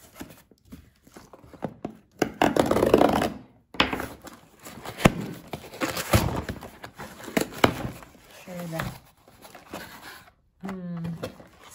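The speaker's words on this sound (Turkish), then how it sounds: "Şimdi size paketi açayım." Plastic packaging for hair dye is torn and unwrapped close by, giving bursts of crinkling and rustling with a few knocks and thumps. Short gaps of near silence fall between the bursts.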